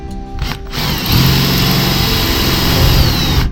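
A power drill whines loud and close as it bores a hole through a cargo trailer wall, a brief spin-up then a steady high-pitched drone that cuts off sharply.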